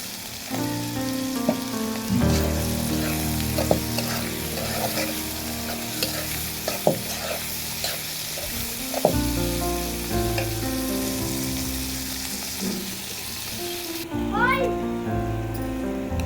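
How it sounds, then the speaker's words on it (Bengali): Onions sizzle steadily in a pan of oil for a chicken and radish curry, with frequent scraping and stirring clatter close by and a voice speaking over it. "এখন দিয়ে দিলাম পেঁয়াজটাকে একটু ভেজে নিব"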